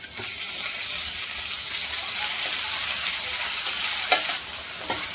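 Ginger garlic paste sizzling in hot oil in a pan for a potato and pea curry, a steady close hiss with a few sharper spatters and stirring scrapes, no voices.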